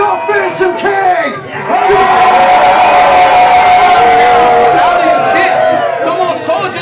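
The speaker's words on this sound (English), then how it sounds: "give a cheer if you'll follow your fearsome king" A large crowd at a Warwick Castle show roars and cheers together, a loud sustained mass of voices with shouts rising over it, fading slightly toward the end.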